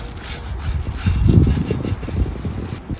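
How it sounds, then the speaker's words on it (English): A paper towel with coarse salt is scraped around the inside of a heated cast iron skillet, making a close, gritty rubbing sound that swells and then eases. "I'm gonna take a paper towel and scrape her around"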